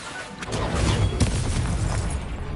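A Confringo explosion spell cast in a Hogwarts video game, a booming burst that swells and rumbles for a couple of seconds, loud and close with crackling debris.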